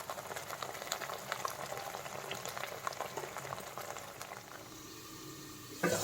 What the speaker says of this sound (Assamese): অকণমান ভাজি লওঁ, অলপমান ভজা হৈ গ'লে তাত আৰু এইখিনি শাক আৰু আলুখিনি একেলগে দি দিম